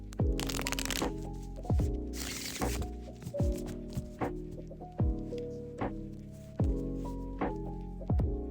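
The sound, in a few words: tarot cards being shuffled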